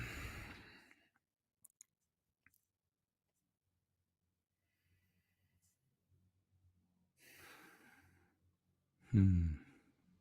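One person breathes audibly in a quiet room, with a brief hum at the start, a few small clicks, then a soft inhale and a heavier, close sighing exhale near the end.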